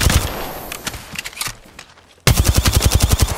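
Automatic weapon fire in the Apex Legends shooter, scattered shots during a fight before a sudden loud, rapid burst of steady gunfire close by to the end.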